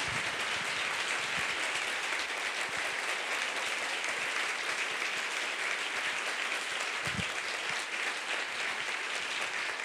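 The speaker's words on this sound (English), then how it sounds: "that is appropriate applause for that film" After a film screening, a large audience breaks into sustained, even applause that stays dense and strong for the full ten seconds, without talk.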